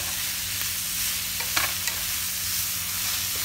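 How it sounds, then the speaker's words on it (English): Onions and mushrooms frying over medium heat in a pan, a steady soft sizzle with a few brief scraping stirs, close and alone with no talking. "Cook onions and mushrooms. I got my temperature on medium."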